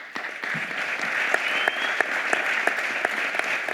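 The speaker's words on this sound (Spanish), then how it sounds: "Todos los aplausos para él." An audience at a tribute event for a journalist and columnist gives sustained applause, a continuous wash of many hands clapping with a few sharper individual claps standing out, fairly loud and without talk.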